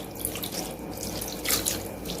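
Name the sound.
water poured over tamarind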